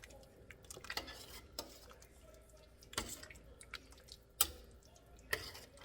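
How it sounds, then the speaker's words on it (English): A spoon stirs homemade beef stew with bay leaves in a pot, making soft scraping strokes and sharp clinks against the pot roughly once a second, quiet and close. "I'm going to stir this around in it."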